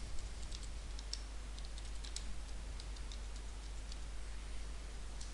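Someone types a username and password on a computer keyboard: light, quick clicks in short runs, fairly faint over a steady low electrical hum.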